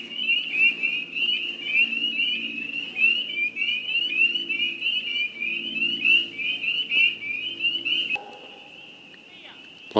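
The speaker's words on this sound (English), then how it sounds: "Those are little tiny frogs making all that noise you hear," Tiny half-inch spring peeper frogs chorus continuously near a canal at dusk, a dense, steady high-pitched peeping throughout; low voices murmur underneath, and the chorus drops away abruptly near the end.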